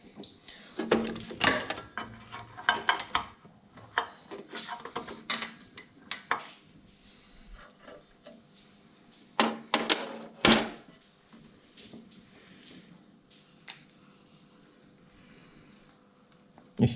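Metallic clanks, ratcheting clicks and tool knocks come in irregular bursts while the fuel injection pump is worked loose from a Lombardini Antor 12 hp diesel engine, with quiet gaps between the louder strikes.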